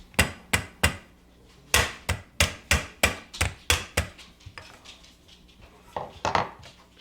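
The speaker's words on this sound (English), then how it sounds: "I'm going to cinch down those staples." Sharp metallic taps as staples are cinched down on the heater box of a K5 Blazer, a quick cluster of three, then a steady run of about eight hits, followed by a few softer taps, close and loud.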